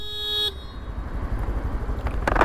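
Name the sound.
car horn honking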